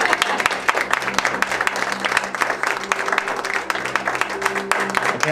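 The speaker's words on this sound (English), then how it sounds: "You may applaud." Audience applause at the close of a live radio theater performance, a steady wash of many hands clapping with some crowd murmur, with a low hum running beneath the clapping.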